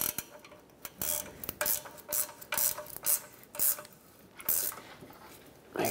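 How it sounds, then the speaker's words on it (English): Ratchet wrench tightening new nuts on the front catalytic converter of a 2013-2019 Ford Escape, a series of rapid clicking bursts in uneven spurts with short pauses between, close and fairly loud. "I'm gonna thread on some nuts. And we'll go ahead and snug these up. Let's tighten these up."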